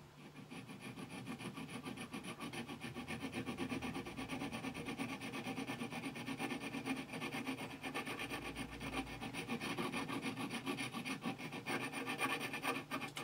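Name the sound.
hand file filing brass watch part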